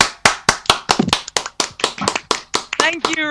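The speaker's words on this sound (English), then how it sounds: "Well, there's a round of applause" A round of applause rises after live a cappella singing on a radio show, with sharp, loud claps in a steady, fairly slow rhythm close by, and a brief voice or sung note near the end.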